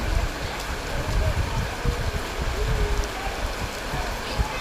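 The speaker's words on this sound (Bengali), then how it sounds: "অতি বেশি বৃষ্টি হওয়ার কারণে আমাদের উঠান দিয়ে পানি প্রবাহিত হচ্ছে" Heavy rain pouring over a rural yard with water running across the ground, a dense, loud, continuous wash of noise with low rumbling and no pauses.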